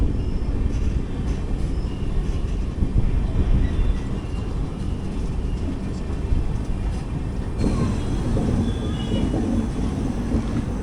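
Kacheguda–Madurai Superfast Express heard from inside an AC 3-tier coach, a steady low rumble of wheels and carriage noise that shifts in tone partway through, with no talk.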